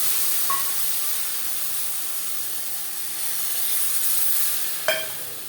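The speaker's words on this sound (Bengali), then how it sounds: "মশলা কষাবার সুবিধার জন্য দিয়ে দেবো মশলা ধোয়া জল।" Spice-washing water poured into frying masala for a Bengali fish egg curry hissing and sizzling in a steady, close wash of steam, with a sharp clink of utensil near the end.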